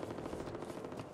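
Dense automatic gunfire from the zombie shooter video game Back 4 Blood rattles on without a break: a loud, steady burst of rapid shots with no voices over it.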